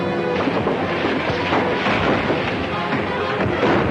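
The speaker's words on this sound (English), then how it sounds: "They fire again, let them have a broadside" Naval guns of a warship firing a broadside in an old film serial, a dense continuous rumble of heavy booms rolling over one another throughout, loud and sustained with no clear gaps.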